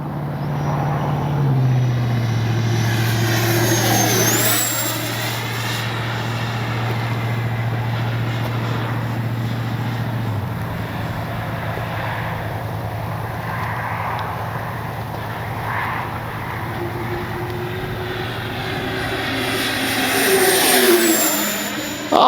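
An XFLY F-35 70mm EDF RC jet with a deep, throaty whine makes passes overhead, its roar rising and falling with Doppler sweeps as it flies near and away, continuous and fairly loud with no talk.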